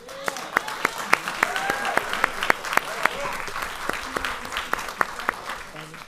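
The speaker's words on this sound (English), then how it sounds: "you guys can clap like crazy because she's awesome and deserves this award" An audience at a school committee meeting applauds an award winner, with a wash of clapping behind sharp, distinct nearby claps that pop out at an even pace.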